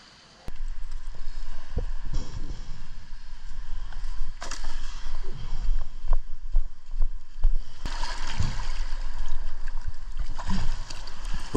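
Boat punching through breaking surf waves off a Samoan tropical island: a rumbling motor under irregular splashes and water thumps, with louder crashes as the hull hits swells, close and continuous.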